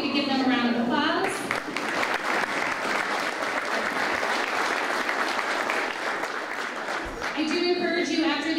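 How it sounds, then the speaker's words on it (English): A crowd at a community State of the Village address breaks into steady, dense applause that runs for several seconds at even loudness, with a brief lull near the end. "If we could give them a round of applause."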